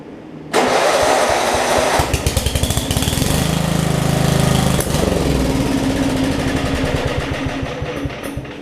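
Small engine on a Craftsman Murray rear-engine rider mower with a worn-out carburetor cranks and catches with a loud burst, runs roughly with pulsing surges close by, then stumbles and winds down as it quits.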